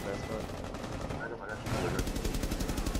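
Close rapid gunfire in the tactical shooter video game Rainbow Six crackles in quick bursts, growing louder and denser toward the end, with a player's voice talking over part of it.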